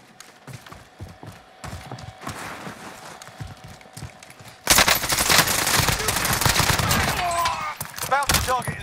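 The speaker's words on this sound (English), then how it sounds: "Stop shooting at me." Automatic gunfire in the shooter game Call of Duty Warzone: sparse shots at first, then a loud sustained burst of rapid fire from about the midpoint onward.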